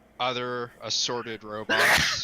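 Someone sneezes once, loud and close, right after a short burst of speech at a tabletop role-playing game session.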